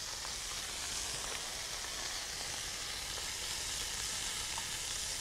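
Demi-glace hits a hot pan after caramelized protein and sizzles as a steady, bright hiss with faint crackles throughout, close and even.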